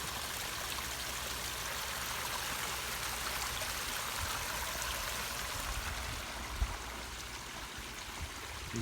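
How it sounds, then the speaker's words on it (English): Steady rushing flow of water gushing from a tide maker, a broad continuous wash that holds level throughout, with a faint knock near the end. "this will come gushing out and raise the water level"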